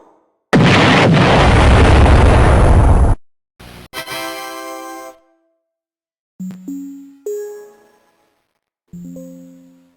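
A long, loud roaring blast like an explosion, lasting a few seconds, followed by short synthetic tones and electronic jingles.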